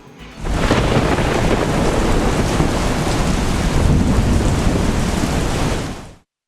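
Heavy, steady rain pours down with deep rumbling thunder rolling underneath, loud and continuous before cutting off abruptly.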